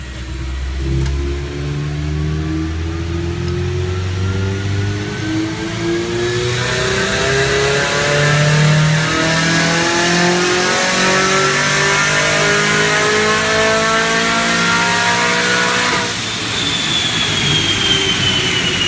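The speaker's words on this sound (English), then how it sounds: "That's what a dyno sounds like, people" A turbocharged 2006-2011 Honda Civic R18 engine revs hard on a dyno and holds high under load, rising steadily in pitch for a long loud stretch, then drops near the end.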